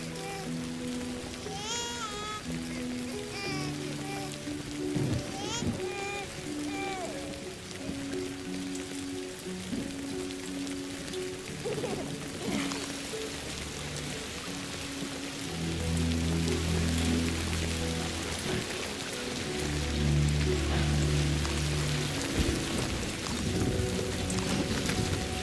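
In the video game Death Stranding 2, steady rain patters across the ground, a continuous hiss that holds evenly for the whole stretch. Soft musical tones and low synth swells sit underneath, growing fuller toward the end.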